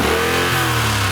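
A 2011 Triumph Thunderbird Storm with a 1700cc parallel twin and big bore kit revs briefly and loudly close by, a deep throbbing engine note that shifts pitch partway through the short burst.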